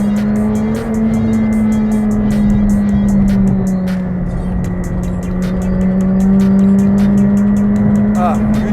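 A 2021 McLaren 765LT accelerates hard toward its roughly 8,000 RPM redline, a loud sustained engine roar with a steady high drone and brief dips between gears, close and continuous for the whole stretch.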